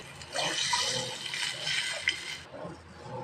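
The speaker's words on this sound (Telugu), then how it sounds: "వాటర్ యాడ్ చేసి" Water pours into a pot of rasam holding tamarind, jaggery, mustard seeds, fenugreek and chillies, a close splashing gush lasting about two seconds before it cuts off, followed by faint kitchen clinks.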